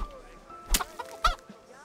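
A chicken in Kingdom Come: Deliverance gives two short, sharp clucks close by, spaced about half a second apart, with faint background noise between them.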